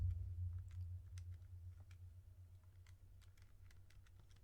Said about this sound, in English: if I type that all into my calculator